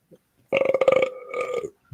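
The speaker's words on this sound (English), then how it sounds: "That was Google burping back." A Google smart speaker plays a short, loud burp sound effect that lasts about a second, with a faint click just before it and another brief sound at the end.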